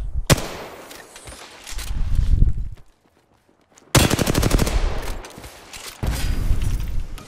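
Automatic weapon fire in Apex Legends bursts in rapid rattling volleys, broken by a short near-silent gap, then resumes in dense loud strings of shots with no speech.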